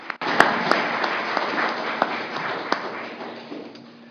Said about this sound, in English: I'd like everyone to give them a round of applause